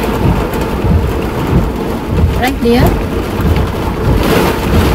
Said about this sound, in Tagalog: Bumubuhos. Bakit ang lakas ng ulan dito?